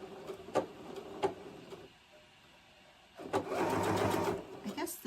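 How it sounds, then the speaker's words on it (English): A sewing machine stitches fabric in short runs: brief mechanical bursts early on, a pause, then a longer steady whir lasting about two seconds, close and moderately loud, with light talk around it. "I'm just going to sew"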